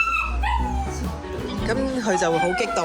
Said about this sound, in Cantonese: 就係好多狗。